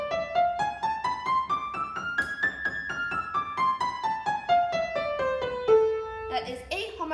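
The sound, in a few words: piano playing A harmonic minor scale, two octaves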